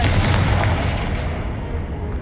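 A Confringo spell explodes in the Hogwarts Legacy video game, making a loud, dense roaring boom that starts at full strength and fades slowly into a rumbling tail.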